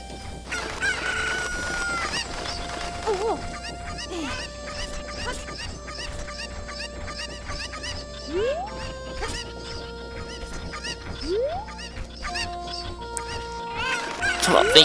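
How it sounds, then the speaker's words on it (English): Chickens from the video game The Legend of Zelda: Ocarina of Time cluck and crow repeatedly over game music, rooster calls rising in sharp swoops amid steady tones and clucks. "pick up the chicken, Link!"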